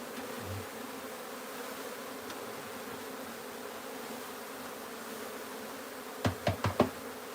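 Low, steady buzzing of a wild honeybee colony being tipped into a new hive, a continuous drone throughout, with a few quick knocks against the wooden box near the end.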